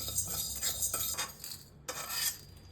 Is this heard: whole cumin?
yes